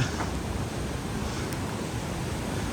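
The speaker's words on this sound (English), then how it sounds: "here you will see the waterfalls very, very closely" A waterfall near Nesso on Lake Como gives a steady, close rushing roar of falling water that holds at an even level throughout, with no voices.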